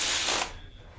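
A 9/16 wrench tightening a bolt on a Mercruiser 4.3 V6 engine gives a brief ratcheting burst that fades within half a second, close and fairly loud.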